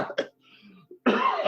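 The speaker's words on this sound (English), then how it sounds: "no one wants to hear anybody coughing" A person coughs twice in quick succession, then a brief throat sound follows before a louder, rougher burst of coughing and throat clearing, all close and unaccompanied by speech.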